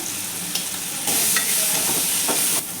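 Bitter gourd frying with Kashmiri red chilli powder and turmeric is stirred in a pan, giving a constant close sizzle that grows louder midway, broken by scraping strokes of the spoon.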